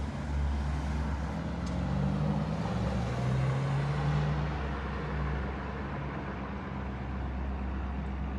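A 2000 BMW Z3 drives past at low speed, its engine a steady, low droning rumble that swells slightly and then fades a little as it moves away, with no talking.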